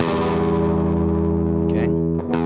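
Distorted electric guitar ringing out a minor-sounding fretted chord shape with effects, one sustained chord decaying slowly, with a couple of brief string noises near the end.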